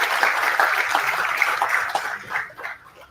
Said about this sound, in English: Please give a huge round of applause to them.